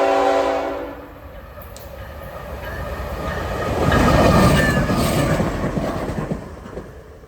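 A freight train led by a GE Evolution (Gevo) locomotive with a single Charger locomotive runs at track speed, a steady rolling rumble that swells louder midway as it passes close, with a hint of horn early on.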